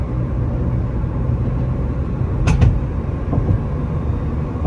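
A Honda Civic, converted from manual to automatic, drives up onto the motorway, giving a steady loud road and engine rumble with a brief knocking clunk midway, no voices.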